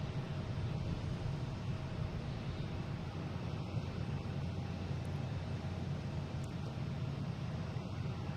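A jet airliner departing Boston Logan International Airport gives off a steady, low engine roar at a distance, constant and unbroken throughout, with no voices.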